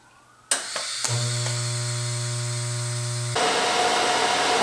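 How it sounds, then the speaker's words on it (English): An electric welder buzzes steadily while tack welding a turbo manifold for an LS engine, a sharp start then a sustained hum that gives way to a harsher crackle, close and loud, no talk. "Put a tack weld on the 4 quadrants."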